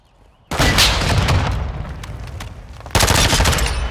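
Bursts of heavy automatic gunfire in the shooter game Call of Duty: Modern Warfare II, a loud volley that cuts in abruptly, eases off, then erupts again in a second close burst.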